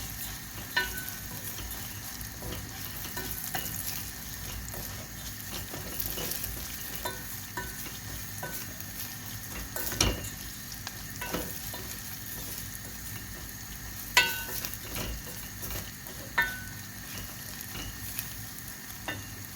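Tel şehriye vermicelli roasts in a pan and is stirred, giving a steady soft sizzle and frying crackle, broken by occasional scraping clicks of the spoon against the pan.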